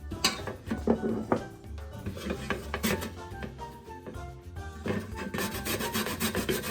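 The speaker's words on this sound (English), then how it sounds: "we are gonna grater these down." Cassava being rubbed against a hand grater for Jamaican bammy, giving a steady rasping scrape in repeated strokes, close and fairly loud, with faint clatter and no talk.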